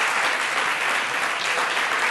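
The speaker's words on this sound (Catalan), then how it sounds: "Molt benvinguts i un fort aplaudiment pels tres." Studio audience at a television quiz show applauds the contestants, a dense, even burst of clapping that carries on for about two seconds without talk.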